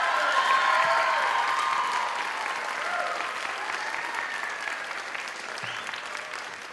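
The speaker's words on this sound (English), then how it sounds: "Please give them another round of applause." Talent show audience applauding the performers at Seminole's Got Talent Finals 2012, a dense, steady wash of clapping that starts loud and slowly fades without dying out.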